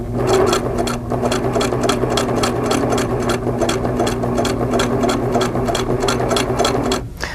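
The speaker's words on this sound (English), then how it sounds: "This is called stitching in the ditch." A Singer sewing machine stitching in the ditch along a quilt seam runs in a fast, steady mechanical rattle, close and continuous, then stops briefly near the end.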